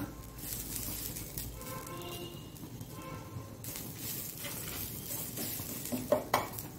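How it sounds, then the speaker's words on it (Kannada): Garlic, grated coconut and turmeric sauté in a hot iron pan, with a soft continuous sizzle, scraping stirs and a couple of sharp utensil knocks near the end. "ಈ ತೆಂಗಿನ ತುರಿಯನ್ನು ಇದರಲ್ಲಿ ಹಾಕಿ ಸ್ವಲ್ಪ ಹಳದಿ ಪೌಡರನ್ನು ಹಾಕೋಣ"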